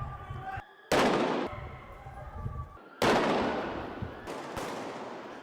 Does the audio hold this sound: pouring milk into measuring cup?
no